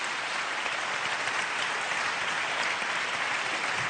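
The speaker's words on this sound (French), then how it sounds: "On peut les applaudir." A ceremony audience claps steadily and evenly at an awards event honoring young talents, a dense, sustained wash of applause filling the room without break.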